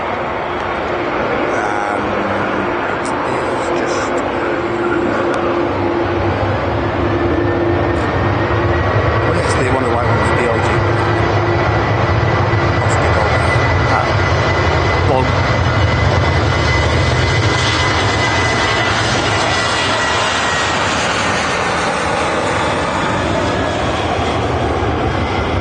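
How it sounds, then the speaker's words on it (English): A Qatar Airways Boeing 777 at Manchester Airport gives off a broad, steady jet engine roar that swells and holds throughout, loud and fairly close, with people talking over it now and then. "Qatar Airways 777."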